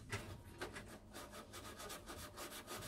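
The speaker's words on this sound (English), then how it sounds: "Some very fine black sandpaper like this" Fine black sandpaper lightly sands a Trumpeter Titanic scale model, making faint, steady back-and-forth rubbing strokes in a close, even rhythm.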